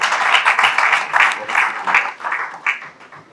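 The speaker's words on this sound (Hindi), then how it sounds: "आपकी बहुत सारी तालियों की गूंज में मंजूर राही साहब।" Audience applause at a book launch ceremony, a continuous burst of close, dense clapping that stays loud and lively for a few seconds.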